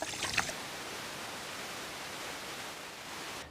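Water runs steadily over fish slices and chunks of fish bone being rinsed for Sichuan hotpot fish, a continuous even hiss with a brief clatter of handling at the start.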